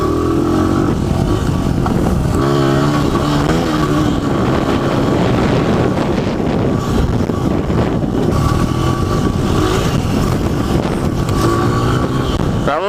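A dirt bike engine revs loud and close on a muddy off-road track, its pitch rising and falling through repeated throttle bursts for the whole stretch, with wind buffeting the microphone.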